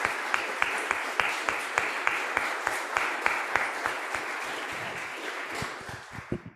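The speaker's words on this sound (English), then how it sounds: "I'd like to give you another round of applause." Town hall audience at a gun safety meeting gives a round of applause, a room full of steady clapping punctuated by crisp nearby claps, gradually thinning into a few scattered hand claps at the end.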